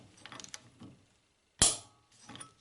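A wrench ratchets on a nut of a Citroën Traction 11 front-axle part: soft handling clatter, then one loud, sharp metallic clack up close, fading into more quiet fiddling.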